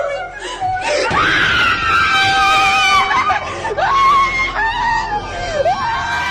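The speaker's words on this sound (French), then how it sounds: "On peut entendre le son d'un fantôme crier à l'autre bout de la pièce." A ghostly scream rings out from across a room in a frightening scene: long, wavering high-pitched wails that rise and fall, sounding strained and eerie, continuing for several seconds at moderate distance.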